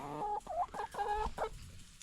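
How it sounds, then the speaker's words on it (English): Several chickens cluck and squawk nearby in short, choppy bursts, a lively farmyard chatter over faint background noise. "Let's feed him to the chickens."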